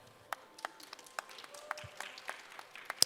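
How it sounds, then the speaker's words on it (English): Scattered audience applause at a business conference, faint and distant, with sparse individual claps spread across a few seconds rather than a dense ovation. "So let's give a round of applause to Brian."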